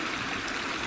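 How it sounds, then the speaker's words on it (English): A river in the Harthope Valley runs steadily at night, a continuous broadband rush of flowing water at close range with no voices. "This is the river, plenty of water source."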